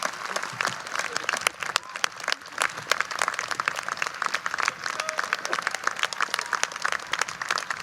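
An audience at the 195th Trinity College commencement claps for a graduate crossing the stage, a dense, continuous wash of applause that holds steady throughout without fading.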